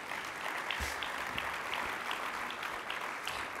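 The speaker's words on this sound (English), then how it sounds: "Please join me in a round of applause for our reception sponsors." Applause from a community reception audience for its sponsors, a dense, even roar of many hands clapping that holds steady and loud from start to finish.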